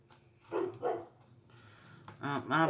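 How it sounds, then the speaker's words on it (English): Dogs barking in another room of a house, a few muffled, moderately distant barks in separate bursts over a quiet indoor background. "I apologize if you hear the dogs barking."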